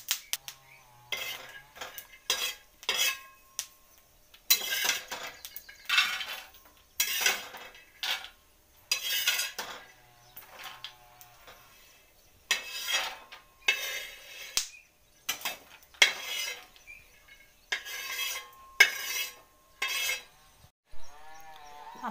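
Roasted peanuts are scooped from a pan onto a plate in a series of separate rattling, scraping bursts, each followed by short pauses, with a faint metallic ring between some of the scoops.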